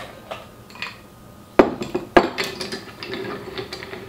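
Bar spoon stirring ice in a Boulevardier cocktail, giving clinking, rattling strikes of ice against glass, sharper knocks near the middle and a steady light jingle afterward, close and moderately loud with no talk.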